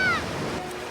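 Rushing river water fills the scene as a dense, loud broadband wash, with a brief high tonal cry at the very start.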